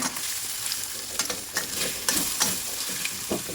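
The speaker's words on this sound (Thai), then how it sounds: "เทน้ำมันลงไปเล็กน้อยค่ะ ตอกไข่ไก่ลงไปเลยนะคะ" Steady, close sizzling of two eggs frying in hot oil in a wok, with occasional scraping and stirring clicks of a utensil against the pan.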